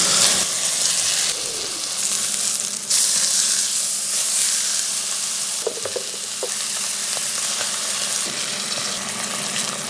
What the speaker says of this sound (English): Touch of rice oil. We'll just start searing these off.